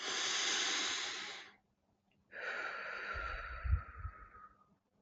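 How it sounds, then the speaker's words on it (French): A person breathes in deeply with a long, close breathy rush, goes silent briefly, then lets out a second long breath that ends in a soft low puff. No speech. "inspirez profondément"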